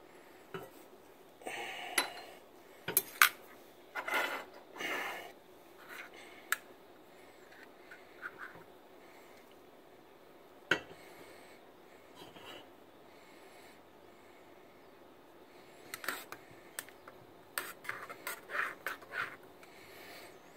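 A spoon stirs Turkish coffee in a small pot, giving scattered bursts of close metallic scraping and clinking separated by quiet pauses, then a quicker run of stirring at the end.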